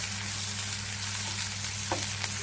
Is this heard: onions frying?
yes